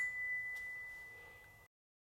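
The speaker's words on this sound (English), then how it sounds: "Keith, this rang like a bell" A machined metal part from a model engineering project is struck once and rings like a bell, a sustained clear tone that slowly fades over about a second and a half in a quiet room.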